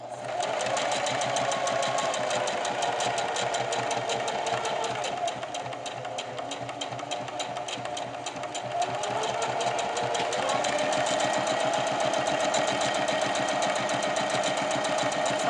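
A sewing machine stitches a ribbon skirt in one steady, continuous mechanical whirr with a fast rhythmic needle clatter, close and unbroken throughout, with only slight dips in speed.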